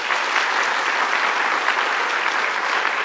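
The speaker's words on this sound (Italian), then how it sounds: "Al mio tre, applauso. Uno, due, tre, applauso." A television studio audience breaks into loud, dense applause on cue, an even wall of clapping held at full strength from start to finish with no talk over it.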